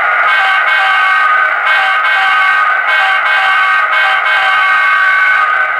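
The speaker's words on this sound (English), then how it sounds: "I'll go honk the horn for you." A loud, continuous horn blares from an HO scale model locomotive, a sustained chord with a few brief pulses and dips, close and harsh, with no talking.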